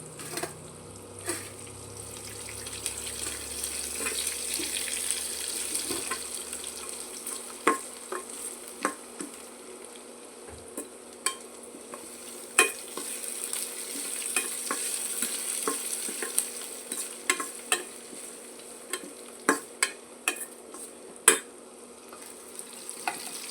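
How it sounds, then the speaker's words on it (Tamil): Green chilies sautéing in a pan for a village-style beetroot and moong dal kootu, a steady close sizzle with frequent sharp clicks and scrapes of a stirring spoon, no voices. "இப்போ நல்லா வணக்கிக்கலாங்க இப்போ பச்சை மிளகாய் சேர்த்துக்கலாம்"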